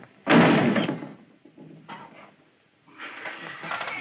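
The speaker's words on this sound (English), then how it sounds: "don't slam the door as you go out" A door slams hard with one loud, sharp bang, followed by a few quieter knocks and rattles, then a softer shuffling noise.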